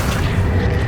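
A short, heavy boom from the Accio summoning spell in Hogwarts Legacy, a brief low thump under a dense game soundscape, lasting under a second.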